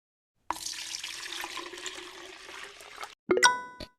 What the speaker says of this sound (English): Pour the stock through the chinois into the next container.